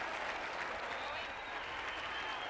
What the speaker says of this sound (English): The crowd standing and cheering for Andy Bingaman.